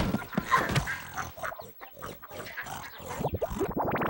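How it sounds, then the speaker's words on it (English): Cartoon pigs oink and grunt continuously at close range, a busy chorus of snorts and squeals on a farm with no talking. "The pigs didn't seem to care much that Kevin was new at this"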